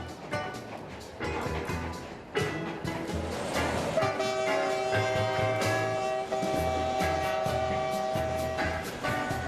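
A steam locomotive rolls along rails in Cuba, with steady running noise, a rhythmic rumble and a sustained whistle tone through the middle and later part, close and fairly loud throughout.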